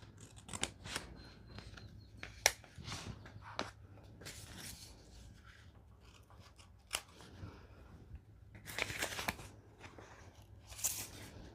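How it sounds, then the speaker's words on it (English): Scissors snip small tabs off paper envelopes made from book pages, with a series of short crisp cuts and paper rustles spread through the quiet stretch, close and fairly soft, with no talking. "So I just went through and cut these little tabs right off my envelopes."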